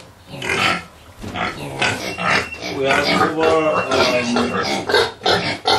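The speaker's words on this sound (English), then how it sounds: "And how many pigs are here altogether?" Several pigs on a pig farm among piglets, grunting and oinking close by in overlapping bursts, with people talking over them.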